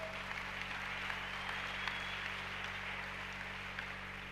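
A church congregation applauds in a sustained, even wash of clapping that carries on at a steady level over a low hum, heard from some distance in the room.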